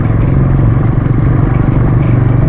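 A motorcycle riding along a road produces a loud, close, continuous engine drone with low rumbling and a steady, unbroken rhythm throughout.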